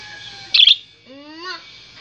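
Pet birds kept in a cage at home give a sharp bright chirp, then a short rising whistled call a moment later, close and clear against a quiet room.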